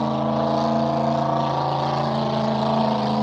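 A racing powerboat in the 5-litre hyper class drones on a hot lap, its engine a steady, loud tonal roar that holds constant pitch without pause.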